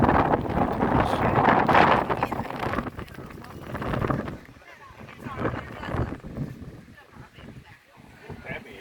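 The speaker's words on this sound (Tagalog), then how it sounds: "Sobrang hangin po" Strong wind in Hong Kong buffets the microphone in heavy roaring gusts that ease after a few seconds, with people talking faintly underneath.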